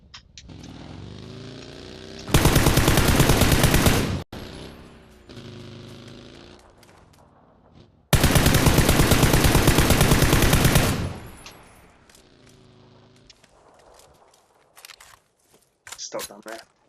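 Two long bursts of rapid automatic gunfire in the video game PUBG, loud and close, each lasting a few seconds, with a player talking between and after the volleys and a few shorter shots near the end.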